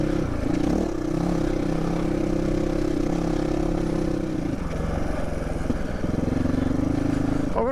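A 2022 GPX Moto FSE450R dirt bike climbs an off-road trail in Colorado. The engine drones steadily and loudly under load, with a brief dip and rev change midway before pulling hard again, heard close from the rider's position.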